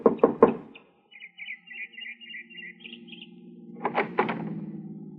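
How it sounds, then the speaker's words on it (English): Several sharp knocks on the door of a small house open a radio drama scene, then a pause and another cluster of knocks, with a faint tone lingering in the background. "knocked at the door of her small house"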